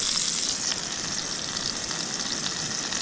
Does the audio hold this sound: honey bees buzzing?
no